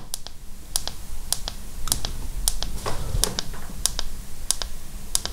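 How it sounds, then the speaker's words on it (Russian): A phone button on a Xiaomi Redmi Note 8 is pressed through its protective case again and again, producing crisp, evenly spaced clicks close up against a faint background hiss. "Наконец-то кнопка нажимается с отщелкиванием."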